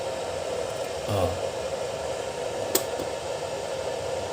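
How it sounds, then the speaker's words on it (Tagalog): An electric fan whirs with a steady, broad airy hum throughout, running on a home solar power setup, with a brief voiced exclamation and a sharp click near the end. "Pwede kong bukas yung electric fan ko."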